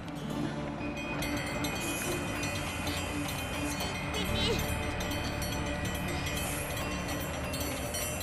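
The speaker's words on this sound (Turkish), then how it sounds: "Tren geliyor." A train approaches with a steady, loud mechanical rumble and metallic rattling that builds slightly toward the middle, while voices talk over it.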